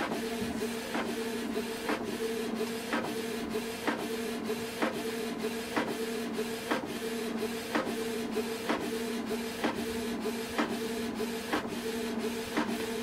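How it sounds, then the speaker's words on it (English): Canon TS3351 inkjet printer running a print job, a steady mechanical whir with regular clicking ticks about every 0.7 seconds as the carriage moves, fairly close and continuous with no talking. "So it's going to print now."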